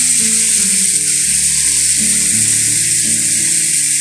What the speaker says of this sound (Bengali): এই 10 মিনিটের মতো আমি মাংসগুলো ফ্রাই প্যানে সিদ্ধ করব।